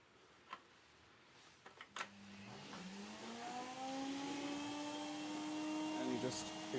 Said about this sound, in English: So we'll switch on the vacuum, it's going to get noisy again.